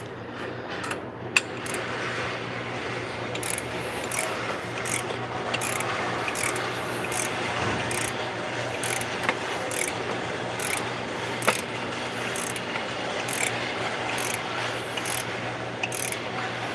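A Mazda B2300 engine is turned over by hand to check a new timing belt, giving a steady run of ratchet clicks over faint mechanical rubbing.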